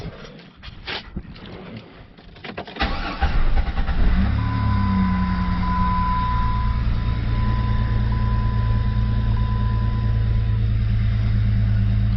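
A 2004 Jeep Grand Cherokee with the 4.0L engine cranks briefly, catches and settles into a steady, even idle hum that runs close and continuous to the end.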